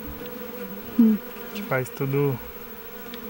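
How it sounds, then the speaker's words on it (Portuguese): Honeybees buzz around a hive holding the queen bee, a steady drone with a few louder close passes, beneath a person speaking briefly. "Essa é a nossa abelha rainha. Ela que comanda tudo na colmeia"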